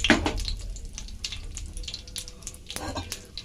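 Spice paste goes into a pan of hot oil already holding whole cumin, cardamom, cloves, cinnamon and peppercorns for a vegetarian potato and paneer dish. It gives a close, soft sizzle with scattered crackles and small clinks, and no one speaks.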